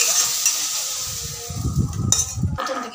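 Prawns sizzle in oil in a pan for mustard prawn curry, with a soft frying hiss and a few low knocks and scrapes from stirring or handling the pieces.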